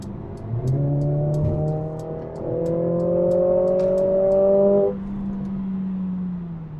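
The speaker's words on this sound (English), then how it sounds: "Another downshift. It's a really low, bassy, burble sound." A 2021 Mercedes-AMG CLA 45 in race mode gives a low, bassy engine burble that rises through a rev, drops on a downshift, then settles to a steady drone, close and loud.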